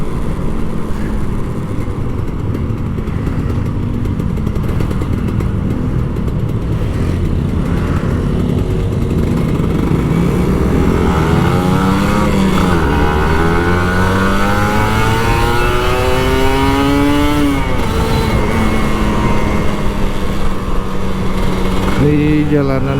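An old Kawasaki Ninja RR 150 two-stroke motorcycle revs hard and close on the road, its pitch climbing through repeated rising sweeps over a constant roar, with occasional speech.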